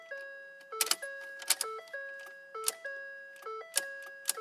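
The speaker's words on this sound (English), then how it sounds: "You can hear a relay click," Repeated clicks and chimes inside a Ford F150 cab as the key is turned on with no start, sharp relay-like ticks recurring about every second over steady tonal chimes, close and moderately loud.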